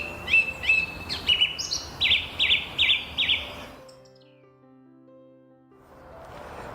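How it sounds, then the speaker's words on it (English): A song thrush sings short, bright musical phrases, one figure repeated several times in quick succession, clear and fairly close, then the song stops and only a faint low hum remains. "A song thrush's song is made up of a variety of short musical phrases repeated 2 to 4 times"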